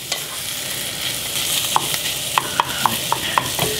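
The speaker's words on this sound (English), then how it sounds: "I'm gonna stir fry." Chinese sausage stir-fried in hot oil in a wok or pan, a constant close sizzle with a run of sharp, regular clinks from the spatula striking the pan near the end.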